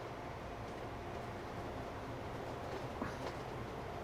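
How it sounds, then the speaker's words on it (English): A long train slowing as it approaches a station in the video game Transport Fever 2, a steady low rumble with rail clatter holding at an even level throughout. "So it's a really long slowdown for this train."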